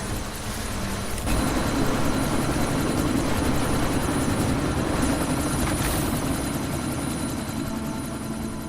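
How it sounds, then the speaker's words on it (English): Helicopter in the video game Deus Ex: Mankind Divided, a loud steady rotor and engine roar that swells after the first second and holds, continuous and close. "That chopper's about to take off!"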